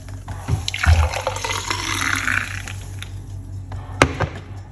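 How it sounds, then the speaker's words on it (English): Beetroot juice poured out of a container, a continuous splashing stream of liquid lasting several seconds, with a couple of sharp knocks near the start and toward the end, and no talk. "Let's pour it out."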